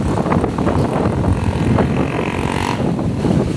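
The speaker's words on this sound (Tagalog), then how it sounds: "Malakas po ang humpas ng hangin sa ating ulo." Strong typhoon wind from Typhoon Pepito gusts at a seawall in Barangay Dampulan, a loud, steady roar buffeting the microphone with no one speaking.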